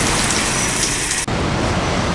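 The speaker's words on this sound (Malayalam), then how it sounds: "ഇതാണ് ദുബായിൽ മഴ പെയ്താലുള്ള സിറ്റുവേഷൻ" Heavy rain pours steadily over a small balcony in Dubai, a dense, loud, continuous hiss of falling water with a brief cut partway through and no talking.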